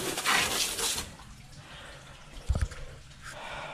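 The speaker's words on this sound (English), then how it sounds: "So it's good that all this is getting sprayed with clean water." Water from a hose sprays across the inside of a jet ski engine compartment, a broad hiss that fades partway through, with a brief splashing burst near the end.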